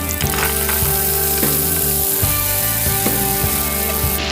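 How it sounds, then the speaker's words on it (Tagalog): Potatoes frying in oil, a loud, close, steady sizzle with repeated clinks and knocks of a utensil against the pan throughout. "I-fry lang natin mga boss yung patatas."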